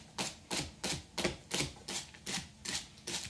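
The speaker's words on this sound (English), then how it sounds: "I've got 2 jalapeno peppers. And you just want to cut them into little rounds." Knife chopping through two jalapeño peppers into small rounds on a cutting board, a steady series of about ten crisp, evenly spaced taps close by, with no talking.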